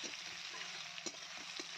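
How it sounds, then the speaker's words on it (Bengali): Onions fry in oil with a soft, steady sizzle, and a few spatula knocks and scrapes land near the end, all fairly faint. "পেঁয়াজ একটু ভালো করে ভাজা করে নেব মানে লালচে লালচে করে নেব পেঁয়াজটা"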